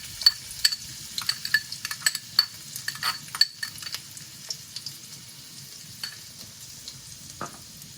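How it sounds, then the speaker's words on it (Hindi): Finely chopped garlic frying in hot oil, a light crackling sizzle with frequent small pops and occasional stirring clicks, close and fairly quiet, with no talk. "अब इसमें हम जो है लहसुन हमने बारीक बारीक काटा हुआ ये ऐड कर देते हैं।"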